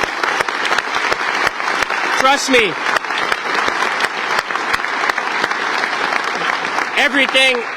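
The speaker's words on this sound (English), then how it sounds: "I want to give you another big round of applause" A crowd gives a loud, sustained round of applause at a speech about jobs in Nova Scotia, with dense clapping throughout and a voice speaking over it.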